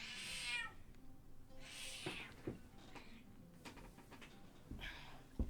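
A cat meows several times in short, squeaky calls, each a brief bright cry separated by quiet gaps, close and fairly clear against soft room noise.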